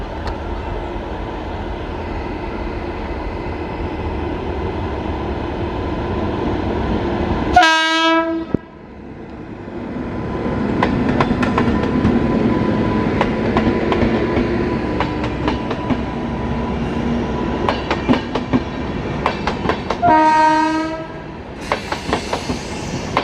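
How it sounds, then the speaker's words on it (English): A train hauled by a WAP7 electric locomotive rumbles past on the main line at Malasandra with steady rolling clatter and rhythmic wheel clicks, sounding two loud horn blasts, one near the middle and another near the end. "We were just in time to see the train depart from the main line of Malasandra."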